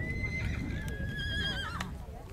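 A horse whinnies in a long, high, wavering neigh at an outdoor equestrian awards ceremony, against a busy background with faint murmur of people.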